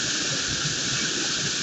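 A river weir at Vaiano runs high after heavy November rain, a loud unbroken roar of rushing water filling the whole short stretch with steady broadband hiss.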